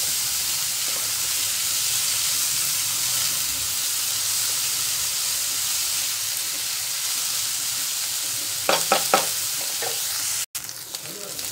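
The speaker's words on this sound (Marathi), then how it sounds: "कांदा छान परतलेला आहे" Three large chopped onions and green chili sautéing in a pan for paneer masala, a loud constant hissing sizzle close by, with a few sharp stirring scrapes near the end and a brief break before it resumes.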